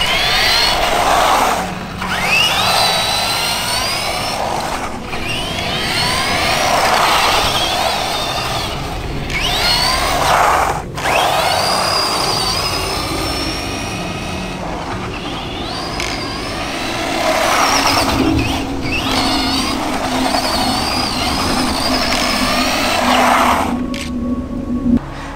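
A Tamiya TT02 RC car on its brushed motor runs in loud, continuous whining bursts that rise and fall in pitch as it speeds up and slows, with brief pauses between passes.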